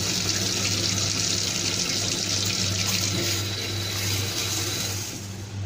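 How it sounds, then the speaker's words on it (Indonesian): Mung beans being rinsed under a running kitchen tap, a steady close stream of water splashing into a sink that holds evenly throughout and eases slightly near the end. "Kacang hijau kita cuci dulu ya."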